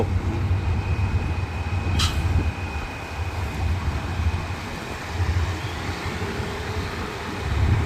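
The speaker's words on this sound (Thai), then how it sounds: "รับ ลากสับเปลี่ยนในย่าน ลากไปแล้วก็ลากมา" An empty train is shunted back and forth in a railway yard, with a continuous loud rumbling drone and a brief high metallic squeal near the two-second mark.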